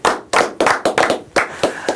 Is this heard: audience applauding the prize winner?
yes